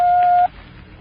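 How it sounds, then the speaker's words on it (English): Radio time-signal beep from a 1939 radio drama: one loud, steady electronic tone lasting about half a second, then a quiet hiss. "When you hear the signal, the time will be 11:59 and 1/4."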